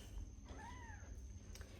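A single faint, drawn-out meow from one of several cats at a home in Ghana, rising and then falling, over a steady background hiss.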